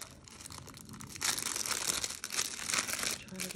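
Crinkly plastic packaging holding small paint tubes is worked open by hand in an unboxing of creative studio supplies, with a quieter rustle first and then a burst of busy, close crackling and tearing with no talking.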